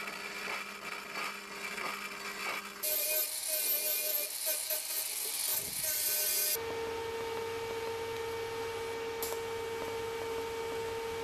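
Metal pieces are cut for a chassis notch on a Corolla panel van. A harsh, gritty cutting burst is followed by a steady, humming tool whine in a workshop.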